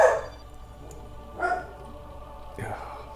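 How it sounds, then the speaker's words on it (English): A dog barks three times, about a second apart, each bark a short, moderately close burst over a low background hum. "There's the dog."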